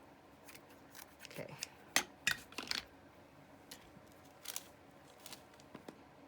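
Scissors snip through paper for a junk journal in quick, quiet crisp cuts, close by, with a soft spoken word in the background.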